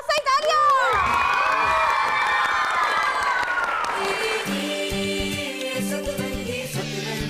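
A studio audience on a Hindi television show bursts into loud cheering, whooping and clapping, then the crowd noise fades under a bright musical sting with sustained tones toward the end.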